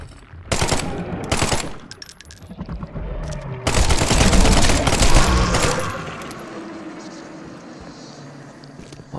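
Bursts of automatic gunfire from The Sinking City video game, several rapid loud volleys in the first half that give way to a quieter, fading rumble.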